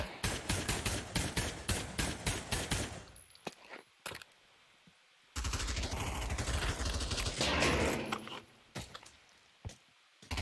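Gunfire from a single-fire weapon in the VR shooter game Pavlov: sharp, rapid reports in a burst up front, then a pause and a second dense stretch of shots and mechanical clatter, fairly loud throughout.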